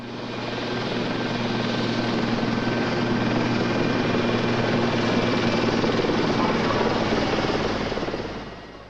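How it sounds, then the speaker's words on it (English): A Lynx naval helicopter flies close by, a loud, steady rotor and turbine roar with constant whine that holds level throughout and fades slightly at the end. "The Lynx, a highly versatile and maneuverable naval helicopter, can operate day or night in nearly all weather conditions"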